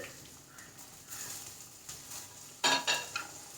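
Chopped carrots and beans sautéing in a pan, a light crackling sizzle broken by stirring scrapes and a few louder clattering knocks toward the end.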